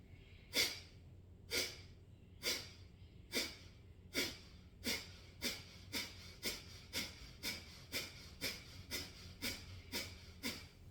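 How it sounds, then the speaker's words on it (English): Nasal breathing drawn down to the belly: a close series of about twenty sharp, rhythmic breaths through the nose that start spaced and speed into a quicker steady pulse, with a quiet background. "breathe in through the nose to the belly and start to breathe"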